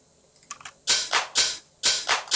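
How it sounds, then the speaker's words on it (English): Open hi-hat layered with clap in a house track's drum pattern: a few light ticks lead into loud sizzling open hi-hat hits with clap snaps, ringing washes in a lively offbeat groove, alone without voices. "open hi-hat with clap"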